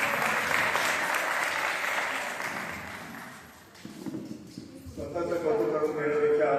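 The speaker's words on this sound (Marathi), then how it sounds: "या सर्व शिक्षक मंडळासाठी माझं आपल्याकडे एक जोरदार टाळ्या मारला आहे" A crowd applauds the teachers at a nursery school gathering, loud and sustained clapping that thins out midway and then swells again, with a voice over a PA sounding near the end.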